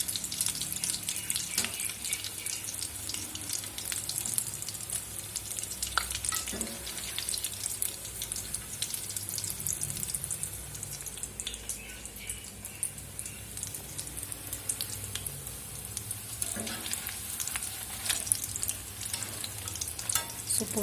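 Potato bondas frying in hot oil, a steady dense sizzle and bubbling that holds throughout at close range, with a few brief clinks and stirring sounds of a utensil in the pan.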